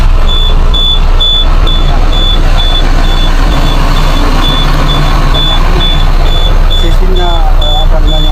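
Heavy equipment with an air-brake compressor system idling steadily after starting, a loud low engine rumble with a regular reversing beep repeating throughout and people talking over it.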